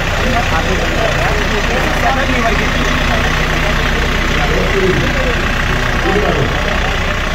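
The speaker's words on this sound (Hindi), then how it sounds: "बिना ब्रेक दबाए ट्रैक्टर आपको पीछे जाने लगता है, बिना ब्रेक दबाए आगे बढ़ जाता" A tractor's engine runs loud and steady, close by, while the tractor rolls back and forth without the brakes pressed, with a voice talking over the constant rumble.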